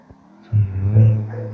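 Car engine in the Free Fire video game, a low droning hum that kicks in after a brief quiet start and holds steady, swelling slightly as the vehicle drives on.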